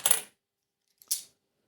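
Two separate clinks of 2 euro coins dropped while being sorted, a sharp metallic hit followed by a second fainter tap and clink about a second later, close and clear with silence between.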